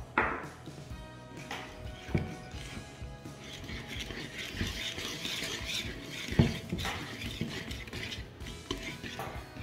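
Lemon cake batter with blueberries, just dosed with baking powder, gets a light mix with a whisk: soft irregular clinks and scrapes against the bowl, close and moderate, with a few sharper knocks and no talking.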